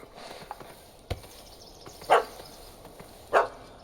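A dog barks twice in The Witcher 3: Wild Hunt, two sharp, moderately loud barks about a second apart over a quiet game ambience with faint soft thuds.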